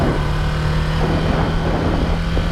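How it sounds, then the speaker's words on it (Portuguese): Ducati Scrambler twin-cylinder motorcycle engine running steadily with a low, continuous rumble, heard close and loud without any speech. "esse barulho bicilíndrico. Do bicilíndrico da Ducati"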